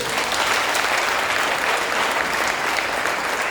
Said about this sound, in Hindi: उसके लिए जोरदार तालियां आपको